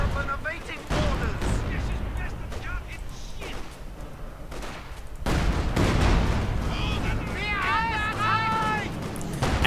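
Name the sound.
gunfire in video game Company of Heroes 2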